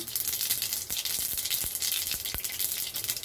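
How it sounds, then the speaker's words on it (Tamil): Mustard seeds pop and splutter in hot oil in a pan while tempering for a Tamil buttermilk kulambu, a steady sizzle broken by several sharp, close crackles. "கடுகு வெடிச்சிருச்சு"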